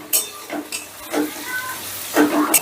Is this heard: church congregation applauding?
no